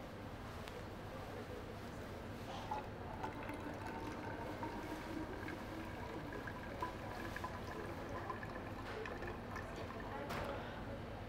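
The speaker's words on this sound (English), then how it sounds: "now we will pour this solution here" Phosphate buffer solution poured into a clean measuring cylinder in a lab: a steady, soft watery trickle running continuously, with faint room noise and no speech over it.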